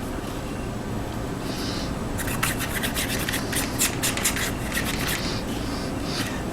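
Stiff brush strokes rasping across plastic shingles as red rust paint goes on, a soft, steady scratching of short repeated swipes clustered mid-clip over a low background hum.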